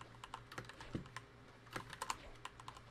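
A computer keyboard is handled and typed on during a Fortnite session, with irregular, crisp clicks and taps at close range, clustering into quick bursts against a steady low background hum, with no talking.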